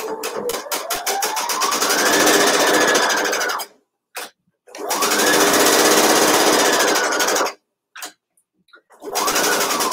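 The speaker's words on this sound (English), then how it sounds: "I'll just use the same straight stitch, the same half-inch seam allowance." A sewing machine runs a straight stitch in two long bursts of rapid, even mechanical whirring, each stopping abruptly with short gaps and brief starts between them.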